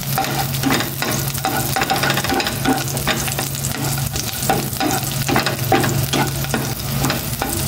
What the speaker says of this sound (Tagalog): May na po yung nilagay kong cooking oil. Ilalagay ko na po itong bawang. And then yung dalawang siling na buo.